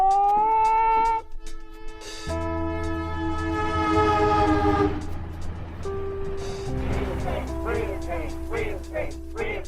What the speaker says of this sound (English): The Gay Freedom Train was an Amtrak train that traveled from San Francisco to Washington, D.C.